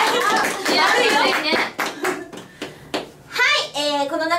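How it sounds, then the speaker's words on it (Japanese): A small studio audience gives brief, light applause, a soft scattering of claps under lively talk, with young voices speaking over the hands. "拍手が小さい。"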